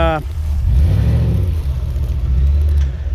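A Jeep Wrangler JK fitted with an LT 6.2 V8 revs hard, its deep engine rumble swelling and holding loud and close for several seconds.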